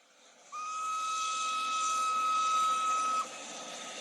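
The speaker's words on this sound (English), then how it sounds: "Professor Liedenbrock and Axel take a train to Denmark" Steam locomotive whistle on a train departing for Denmark, one long sustained shrill blast of nearly three seconds, loud and close over a background hiss.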